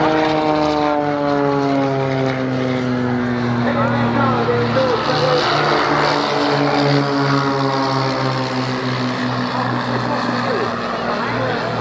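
A propeller airplane passes overhead at an air show, its engine drone loud and steady with a slowly shifting pitch as it flies by, and a commentator speaks over it.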